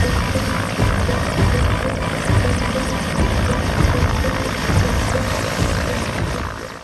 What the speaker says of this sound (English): they hovered with precision and stability until the infantry soldiers slithered down the braided ropes attached with Mi-17 slithering frame